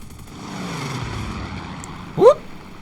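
In a video-game dogfight, a propeller aircraft engine drones past, building gradually and then surging in a brief, sharp whine as the plane sweeps close by.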